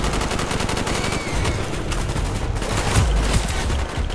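A sustained fusillade of rapid gunfire in Call of Duty Black Ops, with dense overlapping shots and bursts going off continuously and loudly, and almost no talking.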